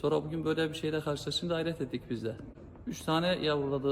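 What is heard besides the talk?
No everyday noise stands out behind the speech.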